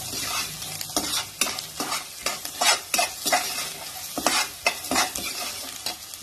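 Carrot rice frying in ghee with green and dried red chillies is stirred steadily in a pan, a continuous sizzle broken by repeated scraping strokes of the spoon, close and fairly loud with no talking.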